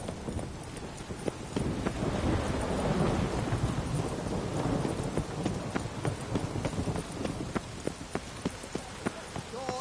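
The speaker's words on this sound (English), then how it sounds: "A storm, damn it." Thunderstorm in the video game Witcher 3: steady heavy rain with rumbling thunder swelling midway, rhythmic horse hooves clopping through it and a voice speaking over the storm.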